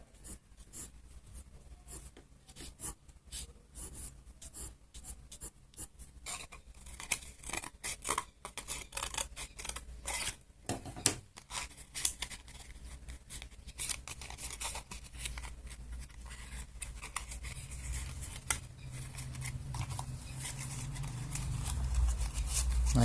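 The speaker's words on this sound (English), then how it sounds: "I will cut this piece out like this." Scissors snip steadily through paper while a head sculpture is cut out and folded, a dense run of close, crisp cutting strokes and rustles with no talking.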